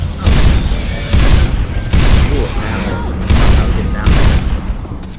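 Gunfire in Left 4 Dead 2 comes in repeated loud bursts of rapid shots with booming low end and steady combat noise between volleys, while players talk over it.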